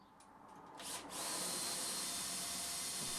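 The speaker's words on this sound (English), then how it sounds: "I drill out some 8mm holes along those 4 marks." A power drill boring 8mm holes for M8 bolts into a mitre saw station base, a steady loud whine rising after a brief start and then holding continuously.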